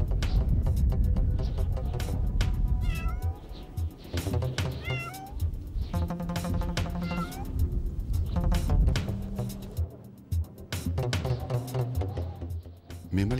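A cat meows repeatedly in drawn-out, wavering cries over a busy background of music and ambient noise, loud and close.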